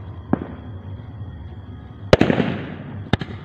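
Firecrackers burst nearby: a small pop first, then a loud sharp bang followed by crackling, and another bang near the end, over low background rumble.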